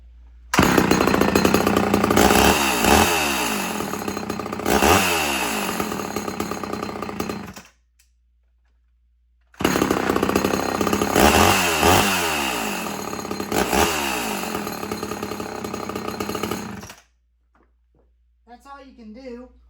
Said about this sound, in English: You can do the same thing onto them home light chainsaws.